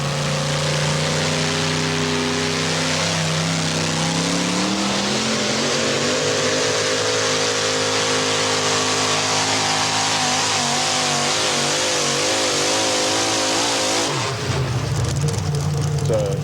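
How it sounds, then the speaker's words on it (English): A 1990 four-wheel-drive pulling truck with a belt-driven Batten overhead-cam engine, four camshafts and four valves per cylinder, revs loudly and climbs in pitch, holds a steady roar, then shifts abruptly near the end, with faint voices in the background. "It's a Batten overhead cam engine."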